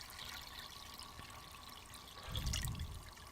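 Water is gently poured onto a rock inside an 8-gallon nano aquarium, a soft, steady trickle that swells into a fuller low splash near the end, close by with no voices.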